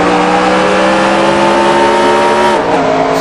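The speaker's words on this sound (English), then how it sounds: "Spun the damn tires." Race car in NASCAR Racing 2003 at Texas Motor Speedway, its engine screaming at high, steady revs as the tires spin at the green-flag start, loud and continuous, with the pitch dipping slightly near the end.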